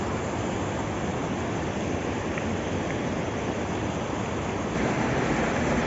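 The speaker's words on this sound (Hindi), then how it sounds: "यहाँ है पहाड़ों से आता हुआ ठंडा ठंडा पानी," Cold mountain water rushes steadily beside fields near a river in Himachal farmland, a dense, unbroken broadband roar that stays close and constant with no talking.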